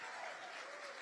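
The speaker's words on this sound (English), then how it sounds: "let's clap for 26 years of marriage" Applause from a rally audience in Austin, a brief burst of steady, dense clapping from a crowd, distant and soft.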